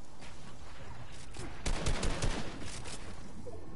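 Rapid bursts of gunfire rattle in a shooter video game, a dense fusillade of overlapping shots that peaks briefly in the middle, moderately loud over a steady background.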